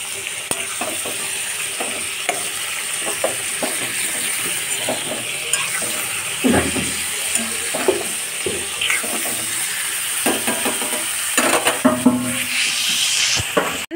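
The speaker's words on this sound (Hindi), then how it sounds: "टमाटर हम इसमें डाल के अब इसे अच्छी तरह से हम चला लेते हैं।" Chopped tomatoes sizzle in a hot pan for kadai paneer while a spoon stirs and scrapes them in repeated strokes over a steady, close frying hiss.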